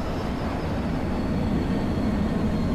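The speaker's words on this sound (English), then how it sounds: "I don't see a plane, but I hear one." Airplane droning overhead in the video game Dead Island, a steady, loud, broadband roar holding evenly throughout with no voices over it.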